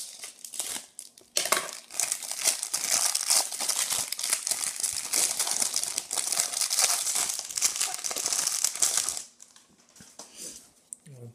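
Parcel packaging from a Yahoo Auctions order being cut and torn open, with loud, close, continuous crinkling and ripping of plastic and paper for about eight seconds before it drops to quieter rustling.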